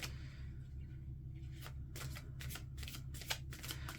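Tarot cards being shuffled by hand for a reading: a steady run of quick, crisp riffling flutters that grows busier partway through, close and fairly quiet over a low background hum, with no talking.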